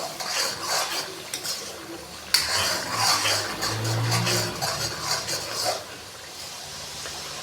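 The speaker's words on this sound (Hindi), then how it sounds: "स्पाइसेस डालने के बाद अभी इसको अच्छे से मिक्स करेंगे और मसालों को 2 मिनट के लिए भून लेंगे।" Ground spices are stirred and roasted in a pot for dhaba-style daal mash, with a sizzling hiss, metal utensil scrapes and clinks against the pot, and one sharp knock early on, close and without speech.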